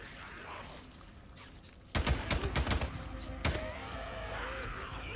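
Gunfire in the video game Days Gone: after a quiet ambient stretch, a sudden burst of several rapid, loud shots, then one more sharp shot a moment later over lingering background rumble.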